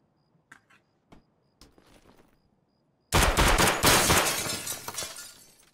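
Sustained automatic gunfire in the shooter game Escape From Tarkov: a few scattered distant shots first, then a loud, dense burst of rapid fire lasting several seconds before tapering off.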